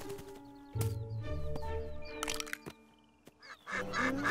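Two angry cartoon birds from the Turkish dub of The Amazing World of Gumball honk and squawk in repeated harsh bursts, loud and close, mixed with cartoon sound effects and a whooshing swell.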